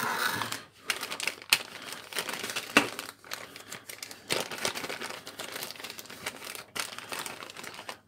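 A plastic bag crinkles and rustles in bursts of close, crisp crackling as designer sunglasses are unpacked, with short pauses between handling movements.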